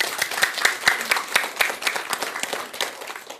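An audience at a Buddhist dharma talk breaks into applause for a questioner, many hands clapping together in a lively, uneven patter with a few sharper claps standing out.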